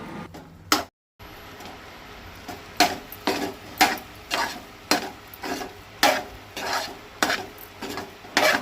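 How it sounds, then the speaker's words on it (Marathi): Sweet Goan sheera of coarse semolina stirred in a pan, a close rhythmic series of scraping, rasping strokes, roughly one each half second, over a faint sizzle, with no voices. "सोय घालतकूच परत ढवळून घेवंक जाय बरो।"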